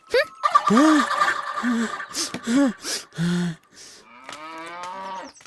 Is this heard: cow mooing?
yes